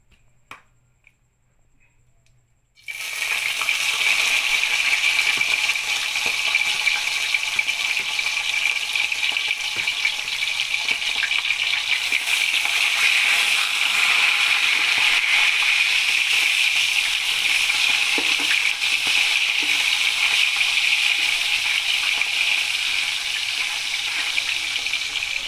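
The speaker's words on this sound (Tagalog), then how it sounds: "nagpreprito na ako dito guys ng isda" Marinated fish frying in hot cooking oil, a steady loud sizzle and crackle that starts abruptly after a few seconds of near silence and continues evenly up close.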